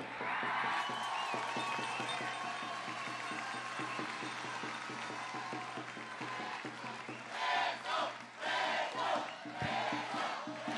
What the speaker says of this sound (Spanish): 20 años de casado ameritan un aplauso más fuerte.